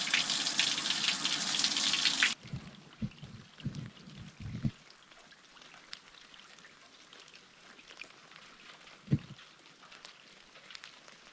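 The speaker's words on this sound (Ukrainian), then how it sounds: "Гаряча вода." Hot water runs from a shower in a lakeside holiday building in a loud, hissing gush for a couple of seconds, then stops, leaving faint drips and a few soft knocks.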